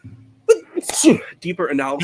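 A single sharp sneeze bursts out during a conversation on a talk show, with people speaking just before and right after it.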